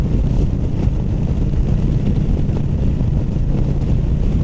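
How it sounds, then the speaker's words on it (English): Wind roars steadily against the rider's shoulders aboard a 2019 Harley CVO Road Glide FLTRXSE on a demo ride, a loud constant rush of air with engine rumble underneath. "The wind is hitting my shoulder area, but it's not buffeting my head."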